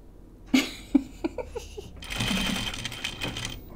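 A domestic sewing machine stitches a jacket in short bursts, with several sharp individual stitch knocks followed by a steadier run of stitching, close by, over a quiet room.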